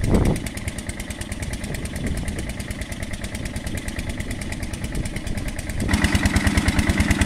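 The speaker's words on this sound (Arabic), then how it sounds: "هذه ماكينة الري ذاتية الحركة." A self-propelled irrigation pump engine in rural Egypt runs steadily with a fast, even chugging beat, close and loud, its tone thickening and growing louder toward the end.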